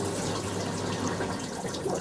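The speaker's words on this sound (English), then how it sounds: "you can hear in the background the service pump is running" A service pump emptying a unit runs steadily in the background, a continuous rushing, watery hum with no breaks and no voices.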